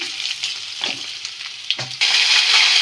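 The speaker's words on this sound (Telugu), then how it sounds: "ఆయిల్ అయితే హీట్ అయింది కదా ఆవాలు వేసుకున్నాము పల్లీలు మినప్పప్పు" Mustard seeds, peanuts and urad dal frying in hot oil, a bright close hiss with scattered pops and spatters, swelling into a louder, fuller sizzle for the final second.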